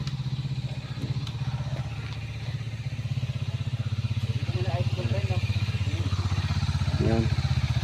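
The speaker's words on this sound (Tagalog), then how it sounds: "yung motor niya nandito sa loob" Kawasaki motorcycle engine idling close by, a steady rhythmic low throb that holds even throughout, with brief voices rising faintly over it.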